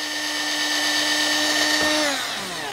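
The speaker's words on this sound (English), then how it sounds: "I may have to drill it out bigger." A power drill runs loud and continuous into wood for a measuring cups and spoons rack, its motor pitch sagging slightly toward the end as the bit bites.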